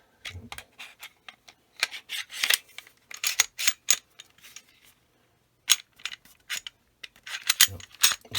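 A Smith & Wesson M&P 2.0 Compact 9mm pistol with a 4-inch barrel being handled: its slide is pulled back and a lever flipped, giving a scattered run of sharp metallic clicks and ratchety snaps, close and dry, with short pauses between bursts.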